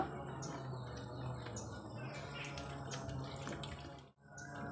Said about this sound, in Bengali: আমি এবার জল দিয়ে বেগুনটিকে ধুয়ে নেব।